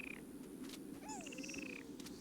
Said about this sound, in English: There's frogs on Tatooine.